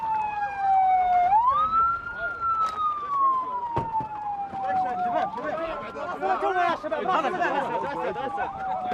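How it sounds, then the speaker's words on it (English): An ambulance siren wails in at a tense front-line scene, its tone sweeping up and then gliding down as it approaches, loud and close, with a second warbling siren and crowd chatter joining near the end. "an ambulance screeches in to pick him up"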